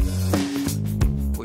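Bass guitar sitting low and punchy inside a full band mix with lightly compressed drums, steady and loud throughout with rhythmic hits at regular intervals.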